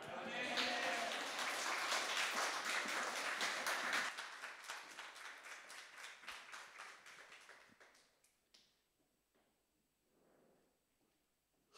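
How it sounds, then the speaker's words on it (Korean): An Easter church congregation claps hands in praise, first as dense, loud applause, then as rhythmic unison claps that thin out and fade into quiet. "그 예수 그리스도께 우리 다 같이 손뼉을 치며"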